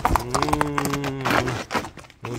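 A horse's hooves clip-clop in a quick, uneven series of knocks on hard ground while the horse is on offer for sale, and faint voices sound in the background.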